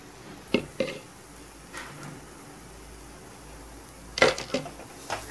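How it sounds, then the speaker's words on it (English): Gram flour halwa with ghee being stirred in a pan: a few short, soft scraping and squishing strokes of a spoon against the pan, separated by quiet stretches. "I will mix it well."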